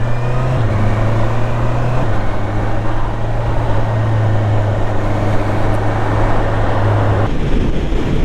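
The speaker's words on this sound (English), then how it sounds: "So I pull away, as soon as you twist the throttle," A 2024 Honda CBR650R E-Clutch motorcycle pulls away under throttle, its engine droning steadily and rising in pitch, buried under heavy, loud wind rush at the microphone.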